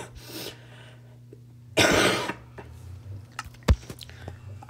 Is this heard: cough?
yes